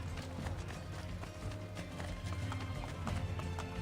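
Rapid horse hooves clatter in a steady galloping rhythm in the video game Assassin's Creed Brotherhood, close and continuous with a low rumbling layer underneath.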